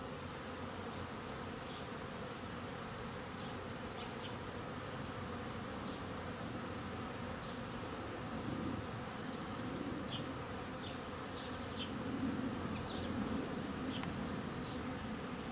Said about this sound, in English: So I've got bees like this guy just walking around, unable to fly.